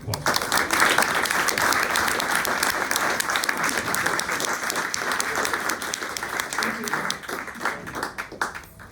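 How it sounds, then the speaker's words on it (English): Sustained audience applause for a panel at a methane climate discussion event, many hands clapping steadily and loudly before tapering off at the end. "let's give them another big round of applause"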